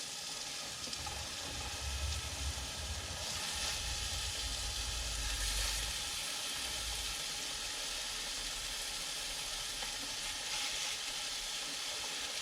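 Kofte meatballs sizzle and hiss steadily in a Cup Chef pan inside an RV kitchen, a continuous close frying crackle with low rumbling underneath and no talking.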